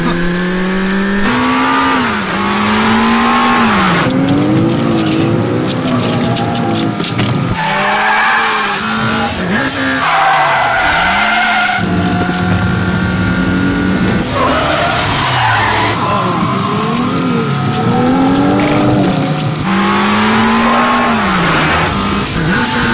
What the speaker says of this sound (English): Can the Golf R complete one lap before Anthony solves the Rubik's Cube?